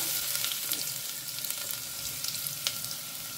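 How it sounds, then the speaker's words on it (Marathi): Chopped onions fry in hot oil in a pan with a steady, soft sizzle and a few faint crackles throughout. "सो कांदे आमकां फ्राय करून घेवंक जाय"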